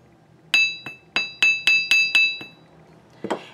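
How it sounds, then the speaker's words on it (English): Small hammer tapping lightly on a wire-wrapped pendant bail: about seven quick, bright metallic pings with ringing tones at an uneven, steady pace, close and clear, then a softer clatter at the end. "If you'd like, you can hammer just lightly the bail."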